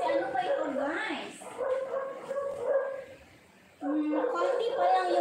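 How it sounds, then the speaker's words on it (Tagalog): A dog barks, yips and whimpers up close and loudly in short bursts, mixed with a person talking. "I-mute ko muna kasi maingay yung aso"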